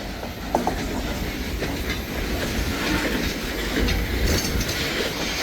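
A freight train hauled by SD40-2 diesel locomotives, the lead unit numbered 1221 and leaking water, rolls steadily past at a road crossing with a continuous loud rumble, wheel clatter and faint squeal.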